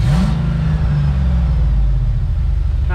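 An old truck's engine revs hard from inside the cab, a loud, steady low roar that climbs in pitch at the start and holds strong throughout.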